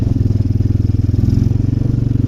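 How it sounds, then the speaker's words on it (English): A four-wheel-drive vehicle's engine revs off-road in high range, a loud, close, throbbing rumble with a fast, even pulse running steadily throughout. "the throttle response is way better in high than it is low"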